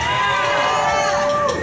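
Crowd cheering and whooping for a live band in a small club, a loud dense wash of shouts and whistles filling the whole moment.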